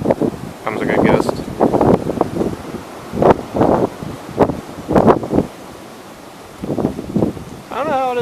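Strong gusts of roughly thirty miles an hour surge through swaying trees on a warm day, rising and falling in broad rushing bursts while someone talks over them.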